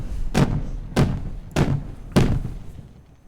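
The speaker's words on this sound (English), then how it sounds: "Thank you for the fireworks, thanks." Fireworks in the Timberborn video game go off as four evenly spaced, booming thuds, each fading briefly before the next.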